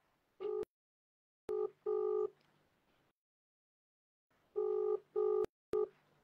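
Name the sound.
telephone ringing on speaker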